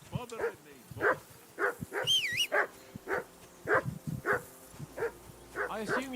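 Repeated barks from a dog in Kingdom Come: Deliverance 2, loud and close in an irregular series, with voices talking over and between them.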